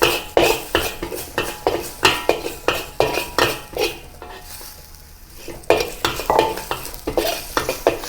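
Garlic and chili stir-fried in a wok for Thai basil fried rice: rhythmic metal spatula scrapes and clanks against the pan over a continuous hiss of frying oil, close and loud, no voices.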